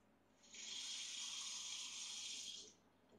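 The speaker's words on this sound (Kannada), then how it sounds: "ನಲ್ಲಿಯಿಂದ ನೀರು ಹರಿಯೋದು" Water running steadily from a tap, a continuous hiss-like stream that starts abruptly, holds evenly for about two seconds and cuts off, heard alone.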